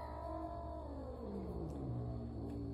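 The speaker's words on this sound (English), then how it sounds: "I have to watch the kitten." A kitten kept in a college room lets out one long, drawn-out meow that slides downward in pitch, close and fairly clear against a quiet background.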